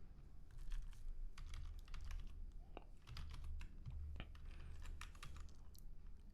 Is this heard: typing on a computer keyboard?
yes